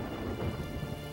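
Steady rain pours with a low rumble of thunder rolling beneath it, a continuous dark storm ambience in the video game Stella Deus: The Gate of Eternity, heard alone without voices.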